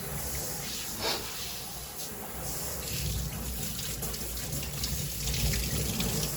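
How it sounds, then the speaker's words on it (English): Water runs steadily from a swivel faucet extender, a continuous broadband rush with slight swells, close by and with no voices. "It's a good water flow"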